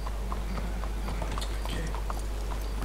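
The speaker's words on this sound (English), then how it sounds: "Let's hitch your horses up ahead." Horse hooves clip-clop steadily in Red Dead Redemption 2, a quiet, even rhythm of hoof falls close by over a low background hum, with no talking.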